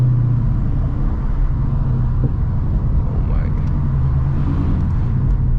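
Steady low engine rumble from a Ford Mustang GT in sport mode, heard from inside the car during a drive near a lake, a continuous loud drone with no distinct revs or pops.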